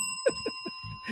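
A bell sound effect rings with steady, sustained tones through the whole stretch, while short voice-like bursts come and go over it at moderate level.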